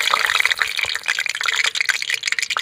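Water dropped into a wok of very hot cooking oil, left over from frying pakoras, sets off a dense, continuous crackling sizzle with sharp spattering pops, loud and close, with no talk.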